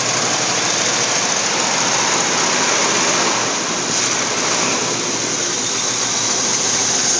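A 1973 Ford Bronco engine idles steadily with a deep, rumbling, period-correct exhaust note, close and constant throughout.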